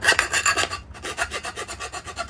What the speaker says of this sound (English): You have to get the file out.